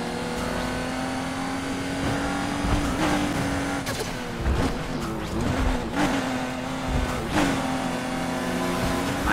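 A BMW race car in Need for Speed Heat, driven with a wheel controller, holds a steady engine drone that swells and drops through revving shifts, with brief tire squeal and impacts around a turn.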